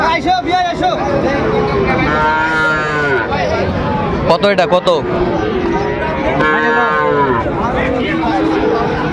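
Sahiwal bull calves moo repeatedly at a busy cattle market, the lowing calls rising over steady crowd chatter and bargaining voices, with people talking close by throughout.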